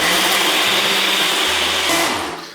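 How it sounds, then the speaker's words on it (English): Blender whirring up a vanilla protein shake, a loud, steady motor whine that holds constant for a couple of seconds, then shifts pitch and tapers near the end. "Sponsor me since I'm talking about your blender here."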